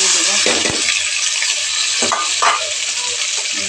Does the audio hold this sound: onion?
yes